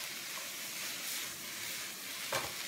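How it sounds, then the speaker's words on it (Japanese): Squid liver stir-fried in a pan with sake, a steady close sizzle and hiss with a brief scrape of stirring near the end, no talking. "また炒めちゃいます"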